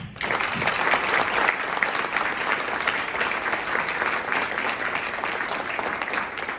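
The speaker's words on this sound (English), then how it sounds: "I'd like to just give one more round of applause for all of our staff" Sustained round of applause from the audience at a New Jersey Youth Corps graduation ceremony honoring staff, steady dense clapping throughout with a faint crowd murmur beneath.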